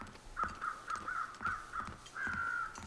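Crows caw in The Long Dark survival video game: a string of about seven short caws in an uneven rhythm, then one longer drawn-out call, moderately faint over a steady wind-like background with no talking.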